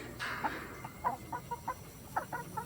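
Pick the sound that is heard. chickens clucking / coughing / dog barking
chickens clucking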